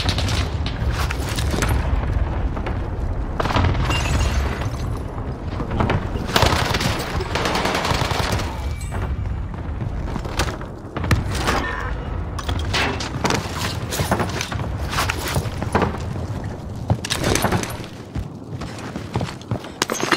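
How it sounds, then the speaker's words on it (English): Video game battle with dense, continuous gunfire and repeated heavy explosion booms from a precision airstrike, loud and chaotic throughout. "Enemy precision airstrike."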